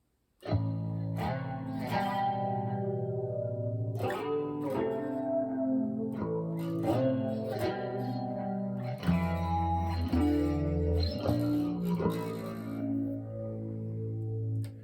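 An electric guitar with distortion and chorus plays a riff slowly, in clear separate picked notes and chords that ring out steadily, loud and alone.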